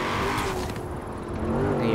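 A Chevrolet Camaro in the racing game Forza Horizon 4 drives with a loud, continuous engine roar. The engine note shifts as it accelerates, and a voice talks over it.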